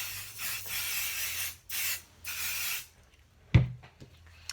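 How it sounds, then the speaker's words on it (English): Basting spray on the back of a cork sheet, heard as several short aerosol bursts in a steady rhythm, close and fairly loud, followed by a brief clack and quiet handling. "I'm going to put basting spray on the back side of the cork."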